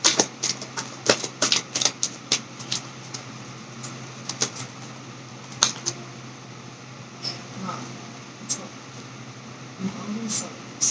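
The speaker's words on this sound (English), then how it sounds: "I'm going to put Whitney's card by her." Tarot cards being handled and laid down on a table: irregular sharp taps and clicks, clustered early and then sparser, with talking in the background.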